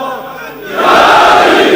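A large crowd at a religious gathering roars the Nara-e-Haidri slogan in unison, the loud massed shout surging in partway through after a quieter lead-in.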